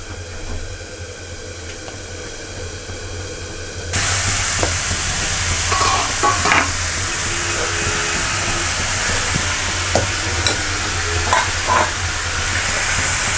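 Spoon-stirred batter frying over crackling fennel seeds in a pan for a sabzi, with a steady sizzling hiss that jumps louder as the batter hits the hot oil, plus scattered scraping and clinking of the utensil.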